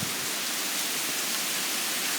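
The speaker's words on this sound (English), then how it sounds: "Rain is really heavy." Very heavy thunderstorm rain pours down in a dense, even hiss, loud and continuous with no breaks and no voices.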